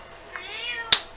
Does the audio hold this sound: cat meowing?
yes